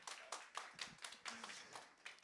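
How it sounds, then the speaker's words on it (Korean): Sparse, rhythmic clapping from a small group at the start of an accounting course information session, roughly evenly spaced claps that sound somewhat distant and soft. "박수 한번 부탁드릴게요."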